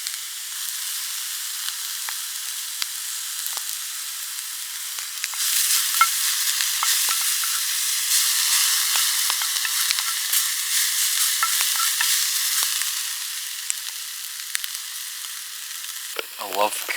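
Fatty strips of beef fry over a small open campfire at a coastal wild camp, giving a continuous crackling sizzle that stays steady and close throughout, with some louder popping spits in the middle.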